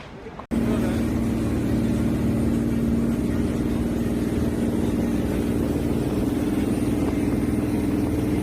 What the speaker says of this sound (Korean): 저희가 탈 제트보트입니다.